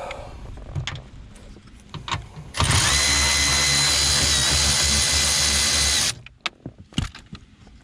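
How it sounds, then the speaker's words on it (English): A Milwaukee cordless ratchet runs in one loud, steady burst of about three and a half seconds during ignition harness repair work on a Pontiac Grand Prix or Grand Am. Quiet clicks and handling noises come before and after it. "I was really excited about this new Milwaukee ratchet here"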